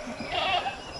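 Goats on a farm, a herd with young kids and males, let out a short, close bleat that rises and wavers for about a second, fairly loud with no voices over it.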